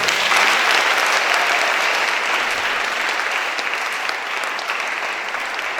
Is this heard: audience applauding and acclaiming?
yes